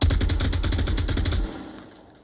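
An M249 machine gun fires in Onward VR: a rapid, steady burst of about fifteen loud, close shots lasting a second and a half, then a reverberant tail fading out.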